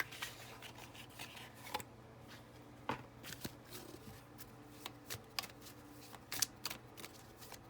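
Angels and Ancestors oracle cards being shuffled by hand, with soft repeated riffling and slapping of the deck in quick, irregular bursts, close and quiet, with no voices.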